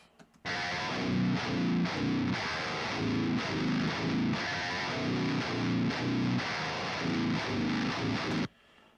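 Heavily distorted electric guitar through a preamp-style overdrive plugin, playing a chugging, rhythmic metal riff, loud and continuous, with no voices, before stopping abruptly.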